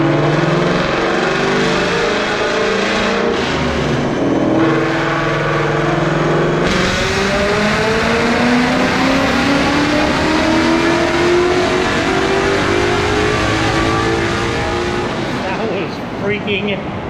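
A tuned 2019 Ford Mustang Bullitt V8 revs hard on a dyno, a loud sustained engine roar climbing steadily in pitch through a long pull, filling the whole stretch with no break.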